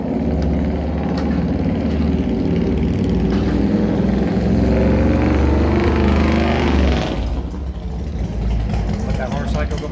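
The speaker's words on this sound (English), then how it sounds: "Let that motorcycle go by." A motorcycle passing close by on a street near a garage where a 1969 Corvette is being worked on, a loud rumbling engine swelling over several seconds then fading away quickly near the end.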